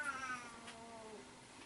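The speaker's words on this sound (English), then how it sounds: "Puppy and cat squabbling in the corner." A cat gives a faint, drawn-out whining yowl in the corner during a squabble with a puppy. The sound is distant and quiet and lasts under two seconds, with a low background hum.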